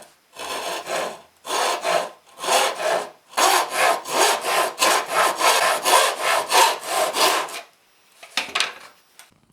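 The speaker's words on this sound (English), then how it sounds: "break out the bench hook and this fine tooth pull saw, and we'll get this trimmed off at the nut line" A fine-tooth pull saw trims guitar body wing veneer at a bench hook, a close, steady run of rhythmic rasping strokes in several bursts with short pauses between them.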